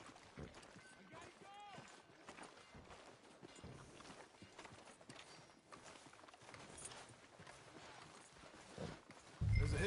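Hooves clop at a steady walk as a horse moves along in Red Dead Redemption 2, a moderately loud, regular rhythm that runs the whole time beneath conversation, ending in a sudden louder burst.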